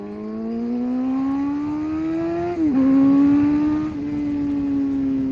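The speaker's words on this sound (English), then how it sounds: "I actually can't believe that I'm riding this bike right now," A 2012 Suzuki GSX-R750 sport motorcycle engine pulls through the gears while riding, its rising whine dropping sharply at a shift and climbing again, loud and steady with wind noise.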